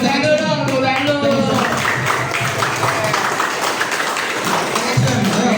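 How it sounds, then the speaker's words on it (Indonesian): A group of schoolchildren and adults claps hands together in a dense, steady burst of applause lasting several seconds, with voices mixed in. "Sekarang kita Tepuk tangan dulu dong"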